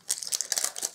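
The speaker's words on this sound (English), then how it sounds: "I'm actually just going to have to cut the cover off it because it's so bad" Scissors snip and crinkle through the plastic cover of a Tombow adhesive dispenser, a quick close burst of crackly cutting and crumpling noises lasting under a second, with no speech.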